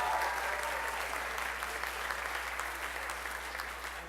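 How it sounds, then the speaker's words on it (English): An audience at a spring school band concert applauds Lorenzo Rivera, winner of the John Philip Sousa Award, with soft, sustained clapping from a large room, faint and distant, with a low hum and some murmur beneath it. "One big round of applause for Lorenzo."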